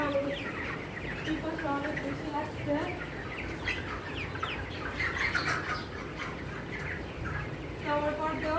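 A flock of chickens inside a chicken house clucks and chatters steadily throughout, with scattered chirps and occasional wing flaps nearby.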